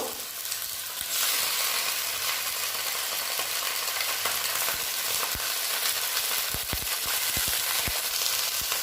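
Bottle gourd greens with potatoes fry in a pan, settling into a loud, continuous sizzle, with a few sharp knocks and stirring clatters toward the end.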